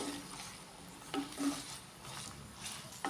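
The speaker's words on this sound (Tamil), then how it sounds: "இஞ்சியை நல்லா வதக்கி எடுத்துக்கலாம்" Ginger sautéing in oil in a pan, a faint sizzle broken by a few soft stirring scrapes and light utensil taps, quiet and brief with no voices.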